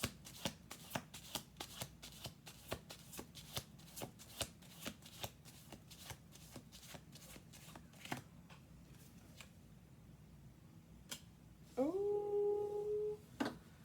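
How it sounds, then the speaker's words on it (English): Tarot cards are riffled and shuffled in quick, crisp clicks, close and quiet, pausing briefly before a soft meow-like cry at the end. "one more shuffle"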